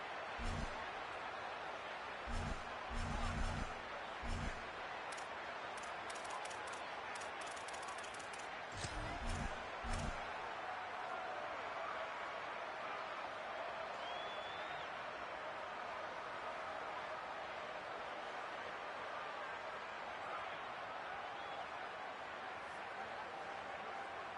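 Crowd noise at a college football game in the video game NCAA 27, a steady far-off roar with a few short bursts of clapping, under someone talking.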